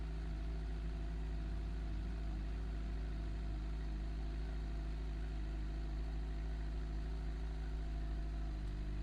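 Motorcycle engine running steadily at low revs during slow-speed riding practice, a faint, even drone with a strong low hum and no clear revving throughout.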